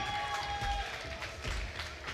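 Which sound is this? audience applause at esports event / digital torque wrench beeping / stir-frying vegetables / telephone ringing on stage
audience applause at esports event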